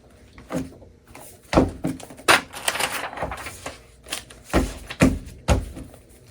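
A stack of printer paper for an HP Color LaserJet Pro MFP M479 FDW gets tapped on a hard surface to square its edges, giving a series of sharp, papery thumps and riffles spread irregularly across several seconds.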